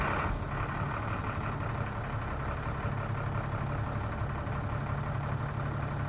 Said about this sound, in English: I'm going to start this truck up